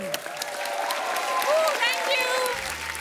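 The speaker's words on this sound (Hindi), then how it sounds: "जोरदार तालियां हो जाए एक बार।" Audience applause on a comedy talk show, a dense, fairly steady clapping wash lasting a few seconds, with brief voices and cheers rising over it.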